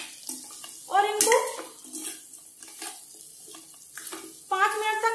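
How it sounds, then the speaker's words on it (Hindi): Potato pieces fry with salt in a pan over a low gas flame, giving a faint hiss under stirring scrapes and a few short tonal squeaks. "5 मिनट तक ऐसे ही फ्राई करेंगे"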